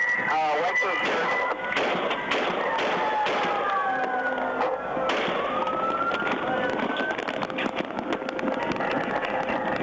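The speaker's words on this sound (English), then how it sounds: "Shots fired! Shots fired, officer!" Gunshots during an active shooting in Oak Creek, picked up by a police car's dash camera: several sharp cracks and thuds burst out of a loud, dense wash of noise, with raised voices shouting over them.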